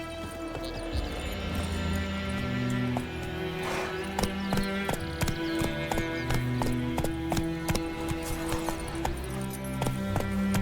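Roach, a horse in The Witcher 3, gallops with rapid rhythmic hoofbeats, close and clear, over a sustained orchestral music bed.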